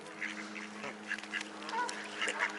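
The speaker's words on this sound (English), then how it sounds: "Swans coming in to join the bird party." Swans honking as they fly in to join a gathering of waterfowl, repeated goose-like calls rising over a busy outdoor background of other birds, fairly loud and steady throughout.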